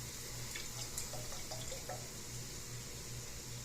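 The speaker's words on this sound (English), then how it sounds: "I'm going to wash my hands." Hands are washed under a running kitchen tap, a steady hiss of flowing water with faint splashes, low in level and continuous throughout.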